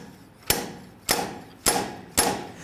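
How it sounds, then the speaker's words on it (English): Four sharp metallic impacts strike at an even pace, each ringing briefly before fading, as a slide hammer slams against its stop while failing to pull a rear axle bearing and seal from a 1994-2004 Ford Mustang. "Now our slide hammer is not working at pulling out the bearing and the seal."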